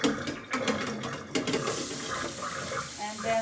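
Tap water runs steadily into a sink while raw chicken is rinsed, a short, continuous splashing flow up close.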